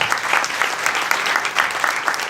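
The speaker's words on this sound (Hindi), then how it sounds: "एक बार फिर से ताली बजाते हैं प्रभु के लिए जोर से" Church congregation clapping loudly in praise at a Hindi-language Christian service, a dense, continuous burst of many hands applauding together at close range, with no speech over it.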